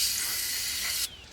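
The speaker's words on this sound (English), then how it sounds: "I'm gonna spray those connectors with this stuff" A can of cleaner sprays onto electrical connectors in a loud, steady hiss that runs for about a second before cutting off abruptly, leaving faint room noise.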